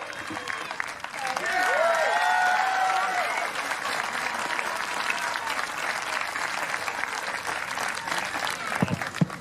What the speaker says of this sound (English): Thank you very much for your round of applause there for More Strength, Scott Moore!